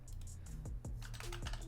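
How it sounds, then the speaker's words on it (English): A player's first name is typed on a computer keyboard in a quick run of soft, close keystrokes over a faint steady hum, with a denser cluster of taps near the end. "let's go ahead and type in his first name too"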